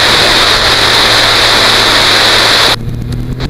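Small engine of a weight-shift trike drones steadily and loudly in flight, then drops abruptly to a quieter, duller hum near the end.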